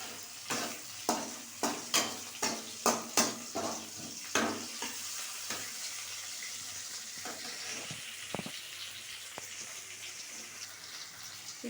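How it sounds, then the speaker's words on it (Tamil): Onions and tomatoes for crab masala sauté in a pan: a quick run of rhythmic spatula knocks at first, then a soft, continuous sizzle with occasional scrapes. "இது நல்லா வதங்கட்டும்."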